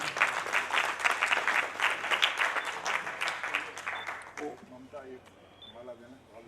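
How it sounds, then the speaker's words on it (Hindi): Loud audience applause at a book launch and poetry gathering, a dense burst of crowd clapping for about four seconds that stops abruptly, followed by someone speaking over a quieter room. "एक बार फिर आपसे जोरदार तालियों का निवेदन"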